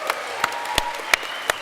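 Sparse clapping from a convention audience at the PAX Australia 2019 Omegathon, a handful of distinct, fairly loud claps at roughly regular intervals over a faint crowd background, no talking.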